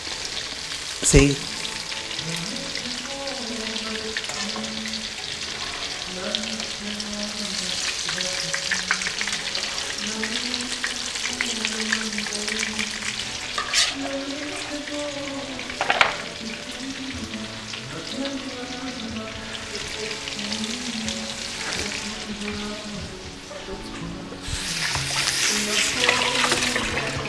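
Persian meat patties (kotlet) sizzle steadily in a frying pan, with a scrape or two as they are flipped, while a person talks over the continuous frying.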